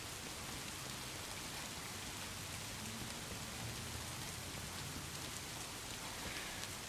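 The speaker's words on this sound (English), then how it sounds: "The rain ambient sound is really relaxing too." Steady rain ambience in the SimRail train simulator, with a dense, even patter of drops at constant loudness throughout and no voices.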